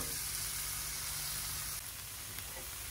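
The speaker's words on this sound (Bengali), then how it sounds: "এখন এটাকে ঢেকে দিয়ে আমি সিদ্ধ করে নেব।" Jackfruit seeds with whole garlic and green chillies cook under a lid, giving a quiet, steady hiss and sizzle that softens slightly partway through.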